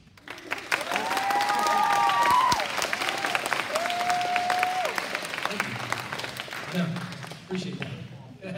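A teen-night church crowd claps and cheers loudly for several seconds, swelling then tapering off, with whistles or squeals rising above it and voices near the end.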